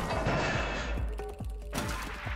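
A cat in the video game Stray falls from a great height and lands hard, a dense crashing thud under game music, followed by a few lighter thumps.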